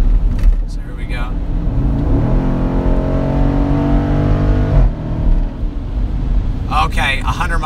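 A Dodge Durango SRT engine revs hard on a dyno, climbing in a steady rising drone for several seconds before cutting off, loud and close, with people talking over the start and end.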